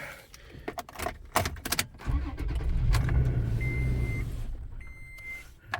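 A second-generation Toyota Tacoma starting up after its battery was reconnected, with keys jangling and clicks first, then the engine cranking and catching into a steady idle, with a couple of electronic chimes.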